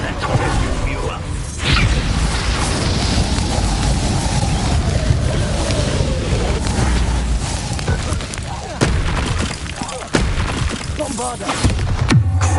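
Bombarda explosion spell in Hogwarts Legacy combat: loud, continuous rumbling blasts and whooshes crowding the whole stretch, with sharp impact cracks near the end and voices calling out over the chaos.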